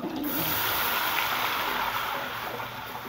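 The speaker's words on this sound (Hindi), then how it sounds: "अब इसमें मैं डालूंगी पानी।" Water poured into a pan of golden fried garlic while making butter garlic rice, a steady broadband rushing splash with a sizzling hiss, continuous and close for about three seconds with no talk.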